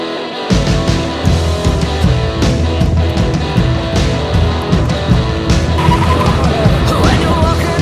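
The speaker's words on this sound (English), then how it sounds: "I think it's time to take this car for a ride" A 1979 Pontiac Trans-Am drives off, its engine roar and tire noise sustained and loud throughout, with a song playing over it.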